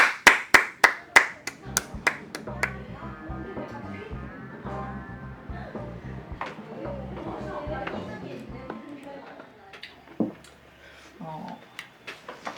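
Audience applause at a stage performance, a burst of sharp, close handclaps in a quick rhythm that soon fades into a noisy crowd murmur, with people talking throughout and a few stray claps near the end.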